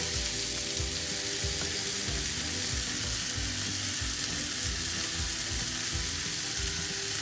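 Butter melts into a few spoons of hot oil in a pan for butter chicken, producing a constant, dense sizzling hiss with no break.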